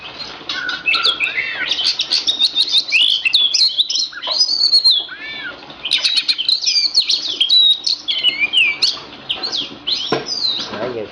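An Oriental magpie-robin (kacer) sings a loud, continuous song of rapid whistles, chirps and warbling trills that barely pause over about eleven seconds, close and clear, with no voices.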